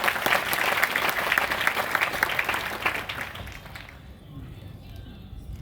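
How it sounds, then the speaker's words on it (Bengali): An audience breaks into loud, dense applause, sustained for about four seconds before quickly fading away into a quieter room. "তো মোদি কেয়ার ম্যানেজমেন্টের জন্য একবার জোরদার হাততালি হয়ে যায়"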